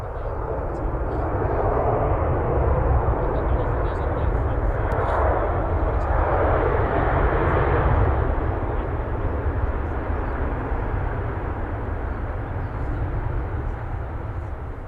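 Ryanair airliner taxiing at Manchester Airport, a loud steady jet engine roar and rumble sustained throughout, with a voice talking faintly beneath it.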